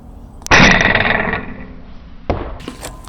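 A Nerf Super BCAR rifle firing a Moose Bite dart: a sharp pneumatic shot with a loud whooshing burst that decays over about a second, followed by a mechanical clack of priming, close up.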